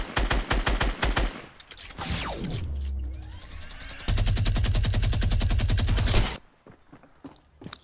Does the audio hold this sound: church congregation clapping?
no